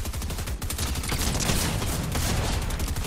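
Dense gunfire in a shooter video game, a continuous rattle of rapid shots with no letup, fairly loud and close throughout, with no talking.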